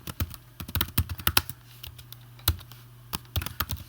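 Fingers tap quickly on a computer keyboard in uneven bursts of crisp, close key clicks with short pauses between words.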